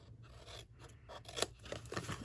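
Scissors snip at an angle through the flap of a paper gift box, a soft close crunching cut that builds over a couple of seconds with no talking.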